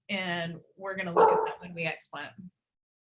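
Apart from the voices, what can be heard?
dogs barking in the background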